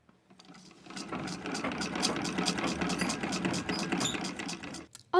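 A sewing machine stitches the seams of an 1880s-style coat, running steadily with a rapid, even mechanical chatter for about four seconds before stopping.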